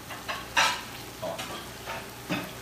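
Diced lemon chicken deep-frying in oil, a low constant sizzle broken by several sharp bursts of spattering and stirring at irregular intervals, no speech.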